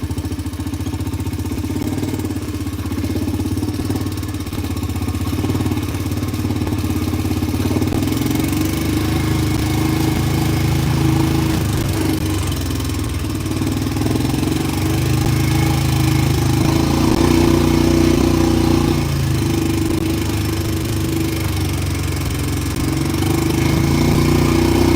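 A ranch vehicle's engine runs steadily at a low, rumbling idle-to-moderate rev while reversing slowly out of woods, a continuous close drone for the whole stretch with no talking.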